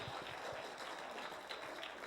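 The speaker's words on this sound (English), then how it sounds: "Come on, give me a round of applause" Audience applause at a motivational speaking event, a steady low-level wash of clapping heard from a distance, fairly faint and continuous for about two seconds with no talk over it.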